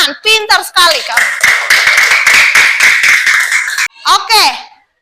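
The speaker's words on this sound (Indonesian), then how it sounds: "tepuk tangan. Pintar sekali kamu." Clapping in a classroom during a teacher-training lesson, a short run of rhythmic hand claps under children's voices and talk, loud and close.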